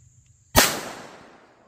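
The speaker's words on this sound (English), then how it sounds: "We are going to do the Beretta 21A Covert with the" A single close, sharp gunshot from a Beretta 21A Covert .22LR pistol firing CCI Velocitor ammunition at about five feet, a sudden crack with a decaying tail, following near silence.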